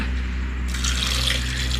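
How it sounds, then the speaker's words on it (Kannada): Cold tap water runs steadily into a vessel while apple and milk are being blended into juice, a continuous close splashing flow that swells slightly louder partway through. "ಸ್ವಲ್ಪ ಕೋಲ್ಡ್ ವಾಟರ್ ಹಾಕ್ಕೊಳ್ತಿದ್ದೀನಿ"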